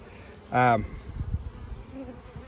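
Honey bees buzz during a spring inspection of a Layens hive, one loud close pass swelling briefly then fading into a faint, steady hum of the colony.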